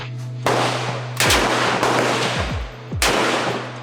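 Gunshots fire at a shooting range in Vietnam: four loud, sharp reports spaced about a second apart, each ringing out over a steady low hum, with no talking.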